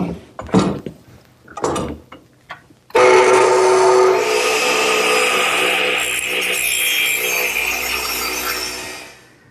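Redwood arch pieces are cut with a power saw: a few short knocks and rasps first, then a loud, sustained whine as the blade bites through the wood and slowly winds down.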